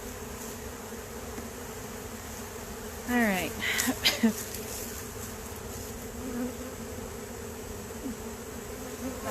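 Honey bees buzz around a backyard hive in a steady low drone, with a few individual bees zipping close past midway; a person briefly speaks over it.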